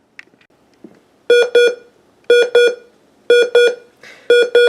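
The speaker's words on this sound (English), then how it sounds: "So this is what the alarm tone sounds like." A GE Model 7-4966A clock radio alarm beeps in repeated pairs of sharp tones, four double-beep bursts evenly spaced, loud and close.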